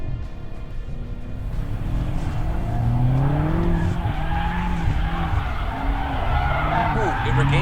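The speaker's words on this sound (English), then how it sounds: "I think I'm trying to do a really tight drift around a corner and kind of slot it in a narrow area." A 2019 BMW M5 Competition drifting tightly around a corner, its tires squealing and skidding in wavering pitches over a roaring engine, with someone talking throughout.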